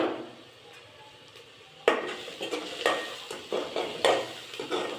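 Cumin seeds, mustard seeds and onions frying in a pan: a soft sizzle at first, then repeated scraping and clinking stirs against the pan that come in quick irregular bursts, close and moderately loud.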